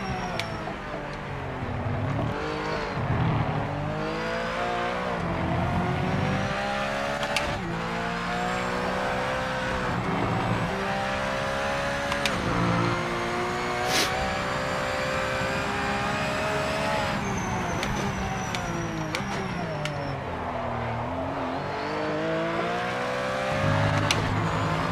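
A Porsche GT4 Group 4 race car in a racing video game circles a track, its engine revving up and down steadily through gear changes, with occasional tire squeal, loud and close throughout.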